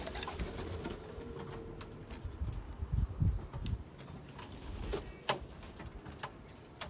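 Pigeons coo softly in a loft, mixed with shuffling, knocking and jangling noises nearby.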